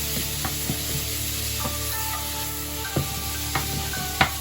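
Ginger, garlic and chilli stir frying in a hot pan, a steady sizzle broken by occasional scrapes and clacks of the utensil stirring, close and clear with no voices.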